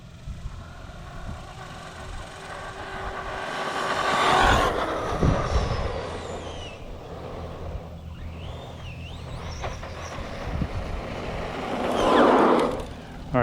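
An Arrma Granite 4x4 3S BLX RC truck runs at full throttle outdoors, a continuous whining motor and rolling drive noise that swells loud around the midpoint, fades, then surges again near the end.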